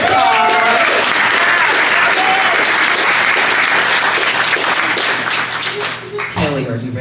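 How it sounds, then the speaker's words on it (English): Loud, sustained applause from an audience at a community gathering, thick overlapping clapping that fills several seconds before tapering, with voices talking and calling out over it near the end. "So I just want to give another round of applause."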